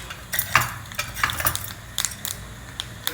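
Mustard seeds, urad dal and cumin seeds dropped into hot coconut oil for a South Indian tempering, giving close, scattered crackles and pops with a few light utensil clinks against the pan.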